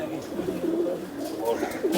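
A pigeon coos in low, soft, rolling calls close by, a couple of short phrases within two seconds, with faint background noise.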